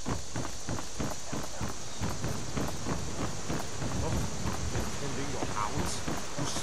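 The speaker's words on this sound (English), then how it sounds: "now listen to footsteps with the footstep mod installed." Footsteps from the Skyrim footstep sound overhaul mod, a steady rhythmic run of close, crunchy steps over continuous background noise.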